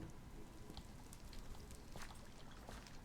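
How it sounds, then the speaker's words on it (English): Steady rain falls in a video game world, a constant soft hiss of droplets with faint scattered patters, with no speech. "No, it's raining."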